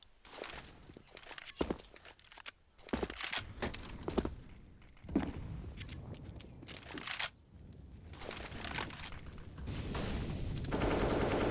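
AWP and AK rifles fire during a Counter-Strike match on the Inferno map: sharp, loud shots and bursts in irregular clusters, mixed with footsteps, with the firing growing denser toward the end.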